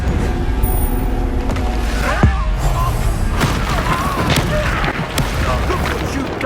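Confringo spell explosions burst amid combat in the game Hogwarts Legacy, loud booming thuds and crackling impacts layered over dense, busy battle noise with short voiced shouts mixed in.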